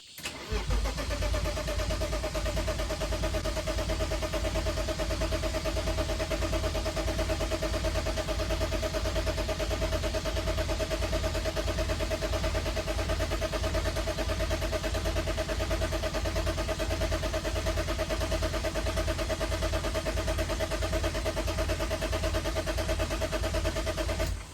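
BMW E36 engine cranking after a fuel pump replacement, a loud continuous starter whir with a steady tone running for over twenty seconds without catching, close and alone.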